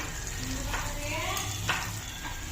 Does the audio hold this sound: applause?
no